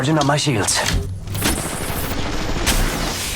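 Rapid bursts of gunfire in the mobile battle-royale shooter Apex Legends Mobile, loud and close, with someone talking over the shots.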